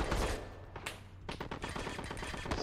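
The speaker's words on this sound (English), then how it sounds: "Looks like there's a bit of heavy fire going on over here." Heavy gunfire in the military real-time strategy game Call to Arms during an assault on an oil site, rapid machine-gun bursts rattling in quick rhythmic cracks over a low rumble, moderately loud with no voices.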